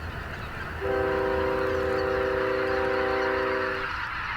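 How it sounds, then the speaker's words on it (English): A train rumbles by with a long, sustained horn blast in the middle, fading back into the steady rolling noise. "And then a train came along."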